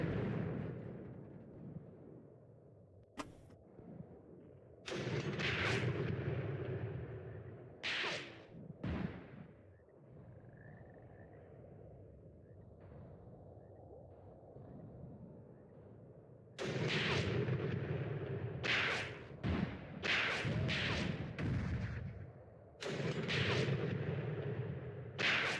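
Repeated heavy gunfire from a so-called meme gun on a tank in the World War II game Tank Warfare: Tunisia 1943, loud booming shots in two clusters separated by a quieter stretch of rumbling engine and ambience, with no one talking.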